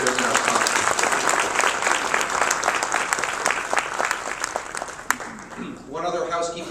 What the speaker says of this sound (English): let's give a round of applause to our exhibitors and our sponsors